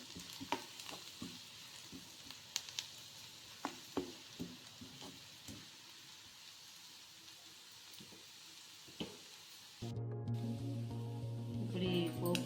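A spoonful of turmeric added to the tempering sizzles in hot oil in a pan for carrot pulihora, soft crackling with sporadic pops, then louder, steadier frying near the end.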